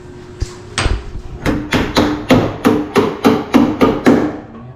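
A hammer strikes repeatedly on a house under repair, about ten firm, evenly spaced blows close by, preceded by a couple of isolated knocks.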